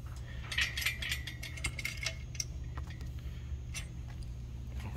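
An adjustable wrench being loosened and tightened, heard as a quick run of close, light ratcheting clicks early on and then sparser clicks, over a steady low hum.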